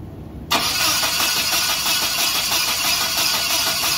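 Car engine cranking on the starter during an ignition spark test with basic tools, a sudden onset after a brief quiet moment, then steady loud churning that continues without catching.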